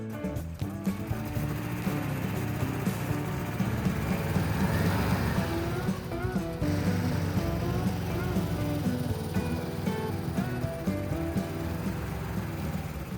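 An old car on a short test drive after repairs, its engine running steadily and close throughout with a low rumbling drone and some rattling, and no talk over it.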